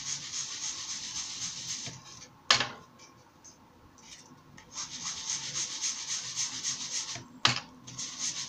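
Ink is rubbed onto the edges of a handmade card, close soft scrubbing strokes in bursts, with a pause in the middle and two sharp taps.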